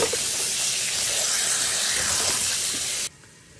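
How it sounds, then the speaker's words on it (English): Running tap water pours steadily over taro root (arvi) in a basket being washed, a close, continuous broadband splash that cuts off abruptly near the end, leaving quiet. "Now I have put the Arvi into my basket and I'm just going to wash it."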